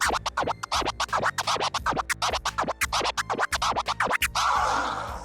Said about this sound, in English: The first version of the Autobahn, being the 6 note version,